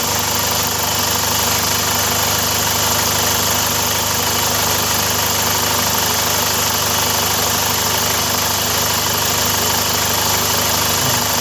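The engine of a Chevrolet Captiva idles steadily, a constant low rumble with a faint rhythmic knock and hum throughout, close and unbroken.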